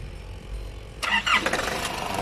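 After a second of low background hum, a Nissan Frontier diesel pickup engine with a faulty injection pump cranks and fires up with a rough, clattering start, close by.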